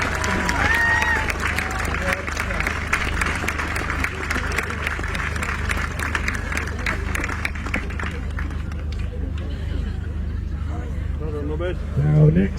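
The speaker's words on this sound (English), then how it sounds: "Big round of applause there for Lumley!" A crowd at the Peak District Highland Games applauds and claps for a competitor, a broad wash of clapping with a commentator talking over it that thins out toward the end.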